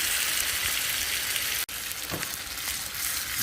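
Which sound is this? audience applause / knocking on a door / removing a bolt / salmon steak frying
salmon steak frying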